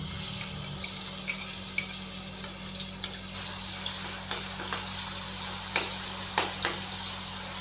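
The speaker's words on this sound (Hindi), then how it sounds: "अदरक और लहसुन के पेस्ट को हम 1 मिनट के लिए हल्का सा फ्राई करेंगे" Ginger garlic paste frying in oil in a kadhai, a steady close sizzle with scattered crackles and pops throughout, no voices.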